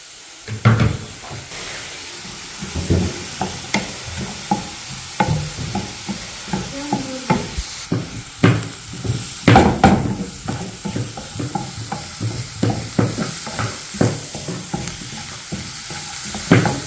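Nescafe coffee heats with milk in a pot. A hissing simmer sits under frequent loud clinks and knocks of stirring and handling, close and busy throughout.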